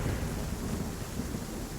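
Thunderstorm in the Undawn video game, with heavy steady rain and a deep rolling rumble of thunder, loud and continuous throughout the short stretch.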